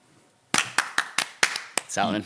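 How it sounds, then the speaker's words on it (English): Live clapping for a podcast guest: about seven sharp, separate claps in an uneven rhythm, close and fairly loud after a quiet start, ending with a short burst of voice-like sound. "Big round of applause for Ewan McVicar."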